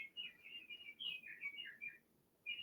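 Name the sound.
bird clock chiming with birdsong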